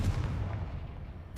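The Confringo blasting spell in Hogwarts Legacy lands as a short, heavy low boom with a rumbling tail that fades quickly.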